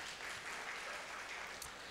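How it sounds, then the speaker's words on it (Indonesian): Applause for the Minister of Creative Economy at a creative talk in Malang, a faint, even patter of many hands clapping at a distance throughout the brief moment. "Ini tepuk tangan untuk Bapak Menteri Ekonomi Kreatif."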